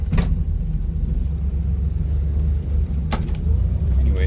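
Chevrolet Corvair being driven, a steady low engine rumble and road noise from inside the car, with a couple of brief sharp knocks or clicks.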